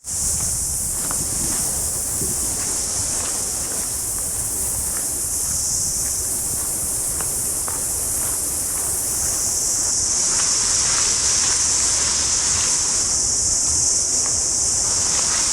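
Loud, continuous buzzing of cicadas at Tarawera Falls near Kawerau, New Zealand, fills the air as a dense high-pitched drone, with faint rustling underneath and a slight swell toward the end.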